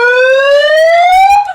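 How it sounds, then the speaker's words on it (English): Siren mode on a bullhorn megaphone, one loud, close electronic wail rising steadily in pitch for about a second and a half before cutting off. "Wait, put the siren on."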